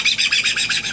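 A pet bird squawks and chirps in a rapid, rhythmic run of about eight harsh calls, loud and close, with no talking.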